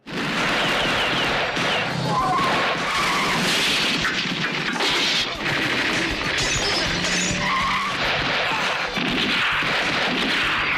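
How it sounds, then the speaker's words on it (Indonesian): Gunfire rings out during a shootout in the 1989 film Dragon Fight, dense loud shots and impacts mixed with squealing tires, crashes and shattering in an unbroken, intense action soundtrack. "menimbulkan aksi baku tembak di antara keduanya"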